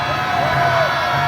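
A large crowd at a political rally outside Seocho Station shouts, whoops and cheers in a continuous, dense roar, loud and close, with no single voice standing out.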